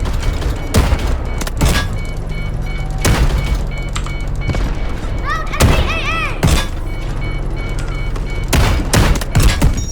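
Loud gunfire from the first-person shooter Delta Force: close bursts and single shots with heavy thumps and distant firing, some rising whistles, while players talk excitedly over it.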